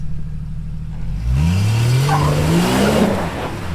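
A stock Chevrolet Suburban engine on an off-road trail, idling low, then surging into a loud, rising full-throttle rev that climbs and holds strained, close and dominant, with a faint high whine on top.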